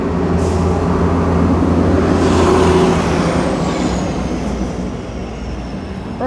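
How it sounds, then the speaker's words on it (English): A heavy vehicle roars past close by, its rumbling engine and tire noise swelling then slowly fading along a busy road. "I'll let that truck go by."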